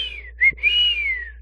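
One loud, shrill human whistle sounds in an audiobook scene, a high tone that drops, breaks briefly, then swells and slowly slides down again.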